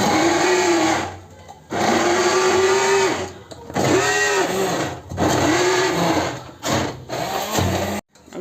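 Kitchen mixer grinder grinding spices into masala, a loud, close motor whine running in several bursts with short pauses between, its pitch dipping as the load shifts, with no clear talk over it.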